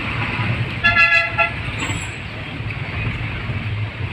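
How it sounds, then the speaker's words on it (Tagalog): Heavy road traffic rumbles steadily on a route toward Sto. Tomas, Davao del Norte, while a loud vehicle horn honks once for about half a second near the start, followed by a brief hiss like an air brake. "Grabe ang traffic."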